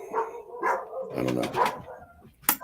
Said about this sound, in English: And that's my dogs.